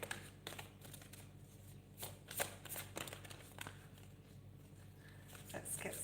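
Tarot cards are shuffled by hand in quick, soft riffling bursts, faint and close in a quiet room, with brief pauses between rounds and no talking.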